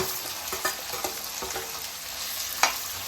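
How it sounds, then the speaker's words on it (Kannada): Sliced onions fry in a pan with a dense, constant sizzle, broken by a few soft spatula scrapes and one sharper clack near the end. "ಈರುಳ್ಳಿ ಅಷ್ಟೇ ಚೆನ್ನಾಗಿ ಫ್ರೈ ಆಗಲಿ."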